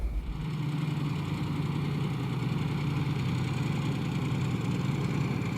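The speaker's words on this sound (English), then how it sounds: "With almost a full load, the ZIL rolls very smoothly." The engine of a Soviet ZIL truck carrying a K-46 crane runs steadily while the truck rolls along with almost a full load, a constant close low drone and rumble heard from inside the cab with no talking.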